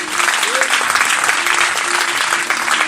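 A church congregation applauds for the Lord, a dense, loud, sustained clapping from many hands filling the whole space, with a faint tone or voice briefly rising beneath it.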